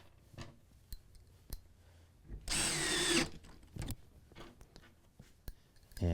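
A power drill with a clutch drives a screw into wood in one close, loud burst of under a second, surrounded by quieter clicks and handling taps.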